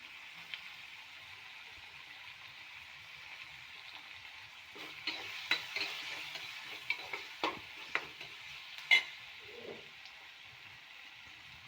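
Tomatoes seasoned with salt and pepper fry quietly in a pan, a soft hiss under occasional scrapes and taps of a spatula stirring, faint and close.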